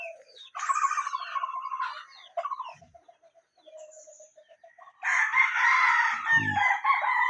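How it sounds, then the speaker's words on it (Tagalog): Chickens cluck and call close by, with a rooster crowing loudly near the end; several overlapping bird voices, no talking; in rural Marinduque, Philippines. "Dami nilang alagang mga manok."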